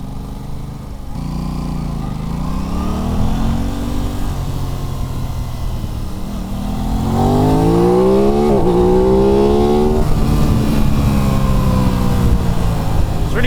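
An Aprilia RS 660 sport motorcycle accelerates hard on the road, its engine note climbing through rising gear sweeps. The loud, steady roar grows louder midway as the revs build through successive upshifts.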